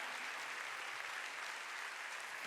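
Church congregation clapping together during a Korean Wednesday worship service, a steady dense wash of applause filling the room throughout with no pauses.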